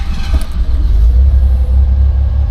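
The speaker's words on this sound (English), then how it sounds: "As you can see, she fires right up. That's a cold start." A 1986 Ford Bronco II idles loudly just after a cold start, a deep steady close rumble with a brief rise at the beginning.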